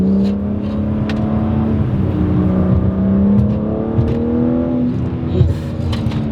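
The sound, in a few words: 2025 BMW M3 engine and exhaust revving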